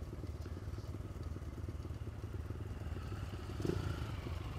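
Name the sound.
Triumph three-cylinder motorcycle passing behind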